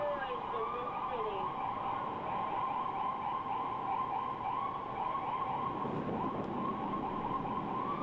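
An ambulance siren wails in a steady, repeating rise-and-fall pattern under traffic noise, moderately distant and continuous throughout.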